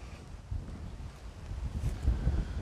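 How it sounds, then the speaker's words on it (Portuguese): Strong gusting wind buffets the microphone outdoors beside a Chevrolet Trailblazer, a continuous low rumble that swells and strengthens toward the end, with no speech. "a ventania começa"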